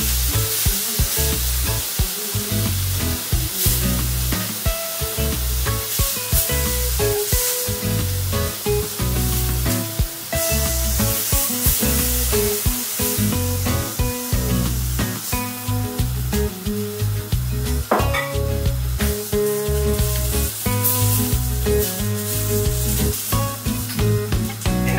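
Vegetables sear on a hot griddle pan, a loud, dense, continuous sizzle with scattered crackles running unbroken throughout.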